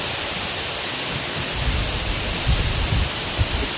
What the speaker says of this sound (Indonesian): Angin berhembus dengan sangat kencang, membuat air sungai ini terus bergelombang.